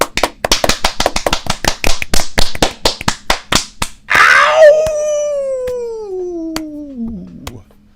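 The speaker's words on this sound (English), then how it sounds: "should we clap it?" Two podcast hosts clap their hands in a quick, loud burst of sharp close claps, then a high, falling squeal rings out over a lingering room tone.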